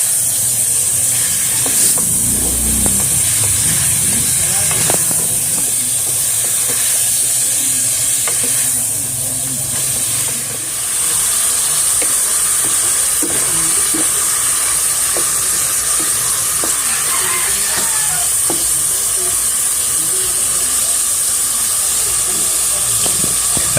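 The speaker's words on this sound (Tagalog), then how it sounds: "paghalu-haluin lang muna natin yung mga karitsurer hanggang lumambot yung mga ingredients" Ingredients stirred in a pot over a fire until soft, a loud continuous sizzle and steamy hiss with scraping spoon strokes throughout, recorded outdoors in a rural setting.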